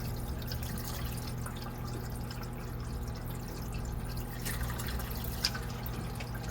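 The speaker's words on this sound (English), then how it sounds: "there's plenty of water flowing out over here" Water flows steadily out of a pipe into a container at close range, a continuous trickling wash over a low hum, with a faint drip near the end and no talking.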